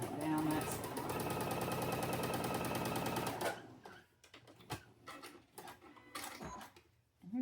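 A sewing machine stitches fabric for a farm-themed sewing project in a steady, rapid run of close needle strokes for about three and a half seconds, then stops, leaving softer handling noises and brief clicks.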